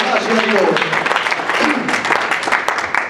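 A church congregation applauds loudly for the King of Kings during a Spanish-language sermon, dense steady clapping spread across the room with voices and cheers mixed in throughout.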